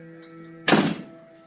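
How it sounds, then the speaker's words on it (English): An indoor door thuds shut in a quiet hallway at night, a single dull close with a short rattle, standing out against faint background hum. "The door closed."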